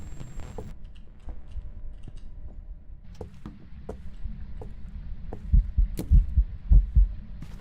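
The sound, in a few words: ghost event heartbeat in Phasmophobia video game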